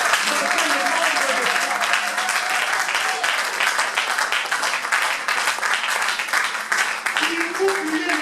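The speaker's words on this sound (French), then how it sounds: "Est-ce que tu peux acclamer pour ce Dieu?" A church congregation applauds in dense, sustained clapping that fills the space, with a voice briefly heard over it toward the end.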